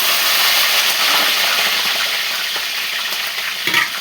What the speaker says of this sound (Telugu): పచ్చిమిర్చి, కరివేపాకు వేస్తున్నాను.